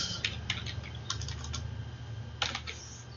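Typing on a computer keyboard while entering form data in retail management software: quiet, scattered clicky keystrokes in short bursts over a faint steady hum, with no talking.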